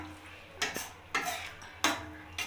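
A spoon stirs cauliflower and paneer curry with milk in a pan, four distinct scraping strokes at an uneven pace against the pan, close and moderately quiet over a faint low hum.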